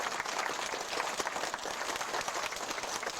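Church congregation at a senior summer Bible school gives a dense, sustained round of applause for the volunteer teachers, steady clapping filling the room with no voices over it.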